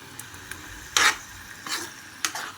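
Chicken pieces fry in oil with onion and green chilli for a spicy village-style kurma. A quiet sizzle runs underneath while three louder bursts of stirring and scraping rise at uneven intervals.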